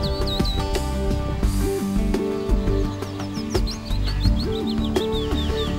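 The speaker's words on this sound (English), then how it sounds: "Beautiful bird song in the background." Birds sing among coastal sand dunes on the Lincolnshire shore at Saltfleet, with repeated bright chirps and trills rising over a steady, fairly loud tonal bed and background hum that runs through the whole stretch.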